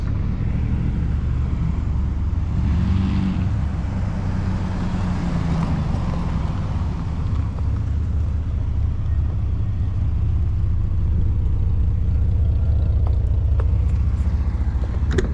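A Chevy Blazer with a Cherry Bomb muffler runs loud and steady close by, its throaty engine and exhaust droning without letup and swelling slightly as it is revved.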